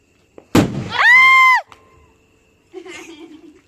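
Diwali firecrackers: a sharp, loud bang, then a rising whistling tone that cuts off, and a fainter crackle a moment later.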